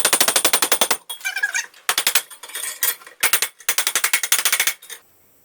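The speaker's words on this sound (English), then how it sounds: "this is just a claw hammer and a piece of pipe, and hitting it" Claw hammer striking a piece of steel pipe in a home workshop while building a pot belly wood stove: loud bursts of rapid metallic strikes in quick runs, separated by short pauses, close up with no talk.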